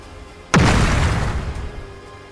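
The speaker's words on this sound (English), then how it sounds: "she heard the gunshot" A single gunshot, a loud sudden boom that strikes sharply and then fades through a long rumbling decay over a couple of seconds.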